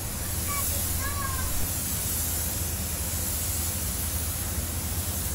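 A spray gun applies peelable paint inside a spray booth, giving a steady, loud, close hiss that runs without a break, with a faint low rumble of booth equipment underneath.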